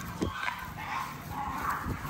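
A white-coated dog whimpers and lets out a few short yips and barks in a small bursts over constant background noise, fairly close.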